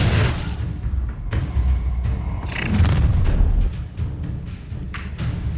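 A fire spell unleashed during a wizard duel in Hogwarts Legacy, heard as a string of loud booming bursts and crackling thuds amid dense battle effects, with no talk over it.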